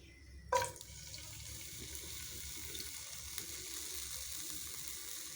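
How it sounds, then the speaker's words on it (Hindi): Chopped onions drop into hot oil in a pan while cooking a potato and capsicum dish, giving a sudden burst followed by a steady, soft sizzle that continues throughout. "हमारा ऑयल थोड़ा सा हीट हो गया, अब हम इसमें जो है अपने अनियन ऐड करेंगे।"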